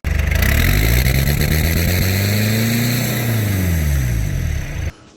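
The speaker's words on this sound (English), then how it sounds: "the Flathead V8 in our 1950 Ford two-door" A Flathead V8 in a 1950 Ford two-door runs close by, a loud throbbing rumble that rises, holds, then eases and drops away abruptly near the end, with no talking.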